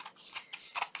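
Scissors snip through paper while trimming a junk journal belly band, several quick close cuts in uneven rhythm, fairly quiet and without talk.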